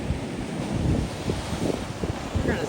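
Ocean surf washing against granite rocks at Peggy's Cove, with close, continuous broadband wash and gusts of wind noise on the microphone, no clear individual wave breaks standing out.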